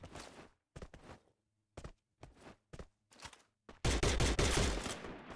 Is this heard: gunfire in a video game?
yes